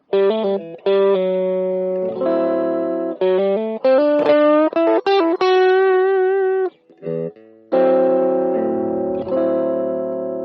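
Electric guitar with effects and light distortion plays a Dorian-mode line, sustained chords and melodic runs ringing one after another with short gaps, clear and up front, no talking.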